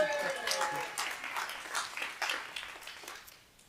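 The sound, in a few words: audience applause for a performer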